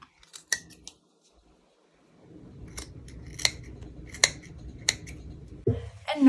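Scissors trim excess yarn on braids for a crocheted Finn hat from Adventure Time, giving a few sharp, separate snips close up over a low background rumble.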